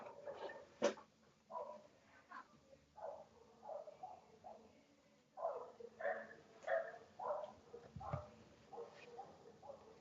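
A pet dog barks in a steady series of yips and barks at close range, startled by an earthquake tremor shaking the room, with the barking repeating throughout and a faint low rumble underneath.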